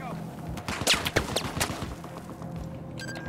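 Heavy gunfire in the video game Battlefield 4: a rapid cluster of sharp shots and bursts at close range, crowded together for a couple of seconds before easing into a lower rumble, with a voice mixed in.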